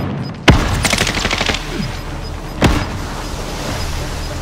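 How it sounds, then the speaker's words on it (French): Gunfire in the Call of Duty: Modern Warfare video game, two sharp bursts about two seconds apart, the first followed by a rapid rattle of shots, over a steady game background. "Mitrailleuse ici."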